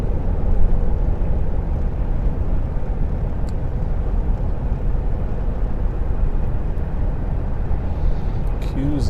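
A car cruises on a dual carriageway at the national speed limit, building up to 70 mph, with a loud, steady roar of road and engine noise running unbroken throughout.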